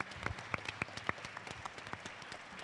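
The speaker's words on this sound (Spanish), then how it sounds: "Un aplauso por favor para todos." A small audience claps at a Star Wars fan event, scattered individual hand claps, fairly sparse and uneven, moderately close, with no one speaking over them.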